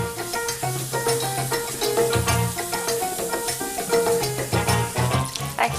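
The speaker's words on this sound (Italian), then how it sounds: "Eccoci, allora pancetta bella sfrigolante, a questo punto ce l'aggiungo con tutto il grasso" Pancetta crisping in its own fat in a pan, a steady close sizzle and crackle running throughout with stirring clatter and busy kitchen layers over it, no talk.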